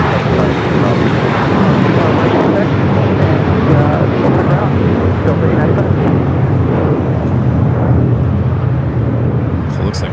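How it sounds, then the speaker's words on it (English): A Japan Airlines Airbus A350-1000 taxis at Los Angeles International Airport. Its jet engines give a steady, loud, broad roar that holds without a break and stays close throughout, and a voice talks over it. "Japan Airlines A350 1000 A350 1000 starting its taxi down"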